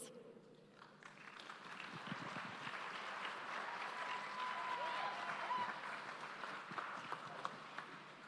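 Audience applause welcomes a speaker at the World Meeting of Families 2018, a broad, steady wash of clapping from a large crowd that swells slightly and holds for the whole stretch.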